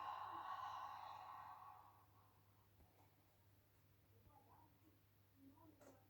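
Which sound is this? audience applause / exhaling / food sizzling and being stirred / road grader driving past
exhaling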